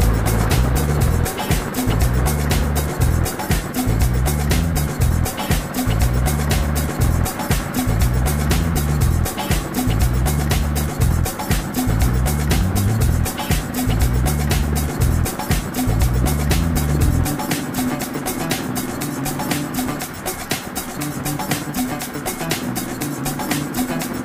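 A 2006 Suzuki Boulevard M109R motorcycle rides down a road on a foggy morning, its engine droning steadily throughout with a pulsing low throb and heavy helmet wind noise, the rumble shifting tone near the end.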